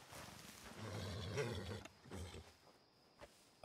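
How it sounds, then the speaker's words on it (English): A wild bear in Red Dead Redemption 2, on a RedM roleplay server, lets out a low, rumbling roar that swells for about a second before fading into quiet outdoor ambience. "Oh my god, I hear a bear."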